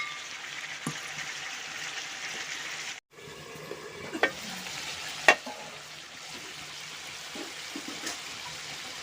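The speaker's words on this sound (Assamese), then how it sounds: "এতিয়া দিম সেই মাংসত আলু দিম, আলু দিছোঁ।" Potatoes added to sizzling meat in a pan for a simple chicken curry, stirred as they fry: a continuous close sizzle broken by a brief drop-out, with a few clattering stirs.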